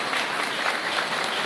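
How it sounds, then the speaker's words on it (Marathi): Steady, dense applause from a gathered crowd at a birthday felicitation ceremony in Netwad Malwadi, a continuous wash of many hands clapping at even loudness without a break. "सर्वांनी टाळ्या वाजवून त्याला वाढदिवसाच्या शुभेच्छा द्यायच्या."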